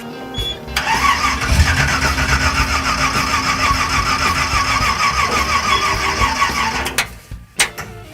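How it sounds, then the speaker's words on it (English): A 1974 Chevrolet Malibu engine cranks steadily for several seconds with a rhythmic starter whir, loud and close, without catching, then stops. "Remarkably, the engine doesn't want to run."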